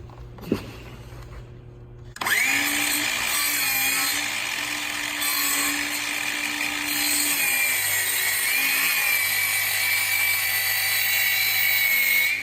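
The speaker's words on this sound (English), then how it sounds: "I just beveled the side that I needed to bevel" A power saw set to 45 degrees bevels baseboard trim, starting with a sharp whine after a brief quiet lead-in and then holding a loud, steady cut with slight pitch dips for about ten seconds.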